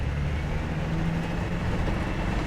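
A 1997 Land Rover Defender 110 with the 300Tdi diesel accelerates in third gear out of a corner, heard from inside as a constant low engine rumble and road noise at an even level throughout.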